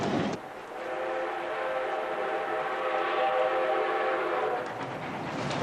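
A historic train runs along the Gold Rush line beside 1,000-foot cliffs, steel cantilever bridges and tunnels. Its sustained horn or whistle chord sounds loud and steady for about five seconds over the rumble of the rail cars.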